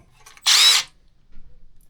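A Milwaukee SubCompact drill in drill mode bores with a 5/8 spade bit, giving one short, loud, high-pitched whirring burst of about a third of a second. Quiet low rumbling comes before and after it.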